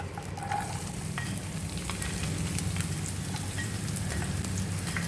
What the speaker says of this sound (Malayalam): അരിഞ്ഞു വെച്ചിരിക്കുന്ന സവോളയും ഇഞ്ചിയും വെളുത്തുള്ളിയും പച്ചമുളകും കൂടെ അതിനകത്തിട്ട് നമുക്ക് സോട്ട് ചെയ്ത് എടുക്കാം